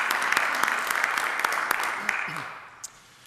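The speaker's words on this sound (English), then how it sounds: "So I'd like to give everybody a big round of applause." The audience at a city council meeting claps in a dense round of applause that fades out, with a voice briefly heard near the end.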